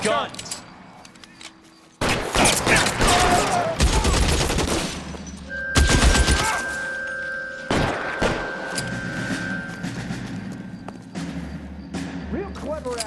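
Bursts of gunfire from the LA Noire crime game, with loud repeated shots and thuds that come in dense volleys, and tonal game sounds and voices underneath.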